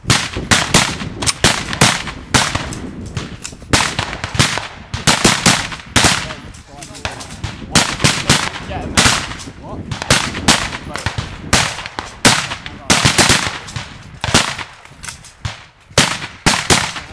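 Rapid bursts of rifle gunfire crack through a cadet training exercise, dense and loud shot after shot for the whole stretch, with shouted voices mixed in among the firing.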